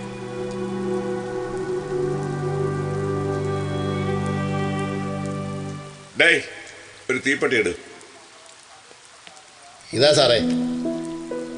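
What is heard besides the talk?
heavy rain (sound effect in a stage skit)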